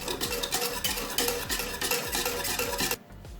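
A spoon stirs food colouring into a cake mixture in a bowl, giving repeated scraping and clinking strokes in a steady rhythm, close and fairly loud, ending abruptly in near silence.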